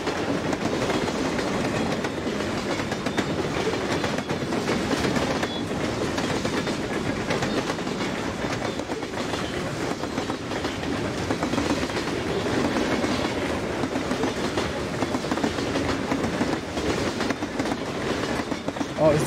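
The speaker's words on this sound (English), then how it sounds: "Oh, we're on a train, yeah." A train rolls along its tracks in the video game RAMS, giving a continuous rumbling clatter of wheels and carriages with a faint rhythmic clack. Talk comes and goes over it.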